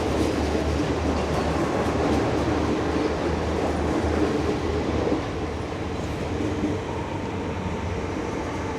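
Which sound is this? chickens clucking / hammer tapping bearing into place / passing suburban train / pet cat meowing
passing suburban train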